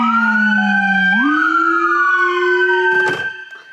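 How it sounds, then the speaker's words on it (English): A Chevrolet Tahoe emergency vehicle's loud electronic siren wail jumps abruptly into a faster, higher howler, then a brief blast of a horn near the end before it cuts off. "Activate the howler"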